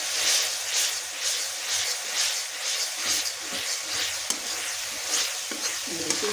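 Masala for Gujarati-style baingan bharta frying in a pan while being stirred, with a continuous loud sizzle and repeated rhythmic scraping strokes up close, no voices.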